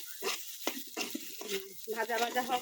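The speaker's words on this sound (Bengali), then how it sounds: "কাঁচামরিচ আর একসাথে দিয়ে দিব টমেটো। এটার সাথে একসাথে ভাজা ভাজা হোক" Tomatoes and green chillies fry in a pan while a spoon stirs them, giving short repeated scraping strokes over a soft, steady sizzle.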